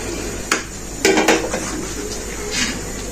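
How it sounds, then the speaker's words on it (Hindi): A lid goes onto a pot of chicken macaroni cooking over a medium flame, giving a short metallic clank followed by a quick double clatter of metal on metal, then a quieter rattle. "अब इसको हम लोग कवर कर देंगे"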